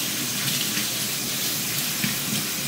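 Lentils rinsed in a sieve under a running kitchen tap, a steady close hiss of flowing water with slight splashing that holds even throughout.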